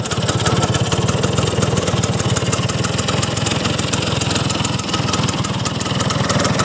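A Vespa Excel scooter engine idles steadily nearby, a loud, even putter with a fast regular pulse and no voices.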